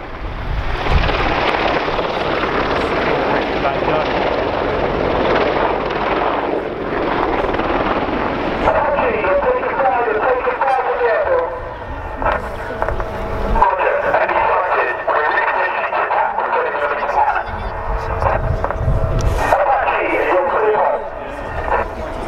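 Army Air Corps Apache attack helicopter flying low at the Dunsfold Wings & Wheels air show in 2014, a loud continuous rotor and turbine roar heard under an announcer's commentary.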